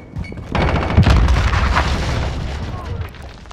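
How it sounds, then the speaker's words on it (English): Grenade explosion in Call of Duty: Modern Warfare multiplayer, a loud, heavy boom with a long rumbling tail amid battle noise. "Throwing grenade."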